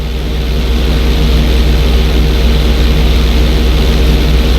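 A stunt plane in Grand Theft Auto V holds a steady propeller engine drone, a loud, close, continuous buzzing hum with a fast regular pulse and no voices over it.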